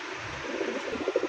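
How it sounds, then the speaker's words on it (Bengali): A large red male pigeon coos at a wholesale pigeon market, a series of soft, low, throaty pulses that grow slightly stronger toward the end over a steady background hiss. "রেড কালার বড় পায়রা, এক সিঙ্গেল একটা নর কবুতর"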